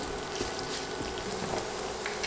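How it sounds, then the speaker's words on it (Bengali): Three medium-sized sliced onions fry in hot oil while being stirred, giving a faint, even, rain-like crackle with soft scraping over a short stretch. "এখন নেড়ে নেড়ে পেঁয়াজ নরম হওয়া পর্যন্ত ভেজে নিব।"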